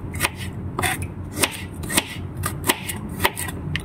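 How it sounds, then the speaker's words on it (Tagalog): An onion is chopped with a knife for a home-cooked ginataang talbos ng kamoteng kahoy and papaya, about seven crisp, fairly regular knife strikes against a board, close up with no talking. "So, hiwain na natin yung ating sibuyas panglagay dyan."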